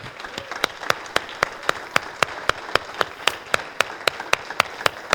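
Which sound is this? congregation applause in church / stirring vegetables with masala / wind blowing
congregation applause in church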